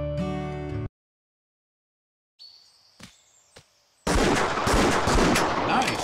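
A single hunting rifle shot in the Wii game Buck Fever cracks out after a musical cue and a silent pause, followed by a few faint clicks, then a loud, dense burst of noisy report and echo.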